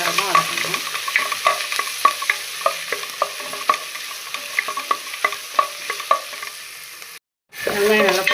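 Onions for chicken biryani frying in a pan, a continuous sizzle punctuated by a regular rhythm of spoon scrapes and taps, close and clear, with a short gap before the sizzling returns.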